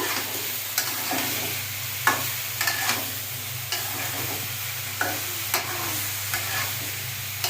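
Cauliflower pieces sizzle steadily in hot oil while being stir-fried for a tilapia fish curry, with a spatula repeatedly scraping and knocking against the pan at irregular intervals.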